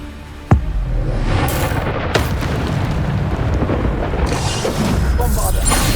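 A Bombarda spell explosion in Hogwarts Legacy cracks out as a sharp, loud blast, followed by a second smaller bang about a second and a half later, over dense, continuous combat noise.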